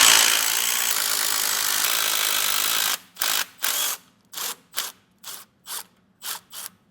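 A ratchet tightens long carriage bolts on the axle brackets of a 2022 Ford F-250 during an air-bag install: after a few seconds of steady hiss, about ten short, close clicking bursts follow in an uneven rhythm, with pauses between strokes.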